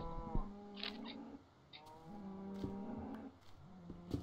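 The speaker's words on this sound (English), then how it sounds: "Why is a cow trying to sleep on me?" A Minecraft cow moos three times in a row, each a drawn-out, low, close bellow with brief clicks of game sounds between them and no talking.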